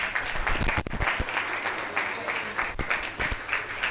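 Clapping from an audience at a college convocation ceremony honoring award recipients, moderately loud with uneven rhythm and a few sharper individual claps standing out.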